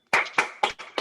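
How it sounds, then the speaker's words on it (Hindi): A small audience claps in thanks for two speakers: five distinct, fairly loud claps in an uneven rhythm, heard without talking. "आप जोरदार तालियों के इन दोनों का हम धन्यवाद ज्ञापन करें।"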